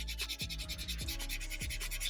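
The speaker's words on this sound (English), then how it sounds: "Now we can give a sanding, as I told you." A small wooden model ship part is sanded by hand in rhythmic back-and-forth strokes, a close, steady rasping scrape with a soft thump at each change of direction and no talking.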